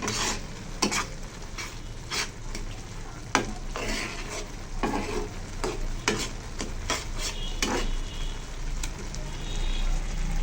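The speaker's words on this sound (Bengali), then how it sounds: "আমি এবার নুডলস রান্না করতেছি" Noodles being stirred and fried in a pan, with a steady close sizzle and repeated scraping and clinking strokes of the utensil against the pan throughout.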